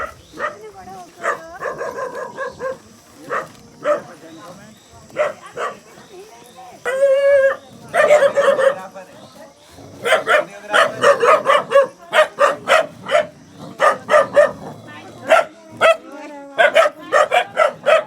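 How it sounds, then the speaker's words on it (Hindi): Young dogs, puppies now grown, bark and yip repeatedly at a village house in Uttarakhand, loud and close, in bursts that overlap with people talking throughout. "ये इतने छोटे छोटे वाले कुत्ते बच्चे बड़े हो गए हैं।"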